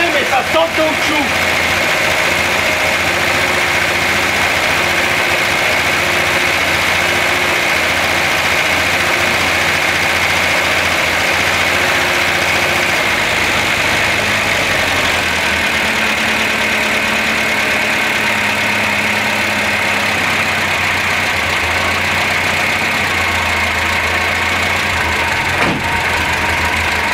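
A Renault Trafic T1000 van engine idling steadily around 1000 rpm, a continuous close rumble that wavers slightly, with someone talking over it throughout.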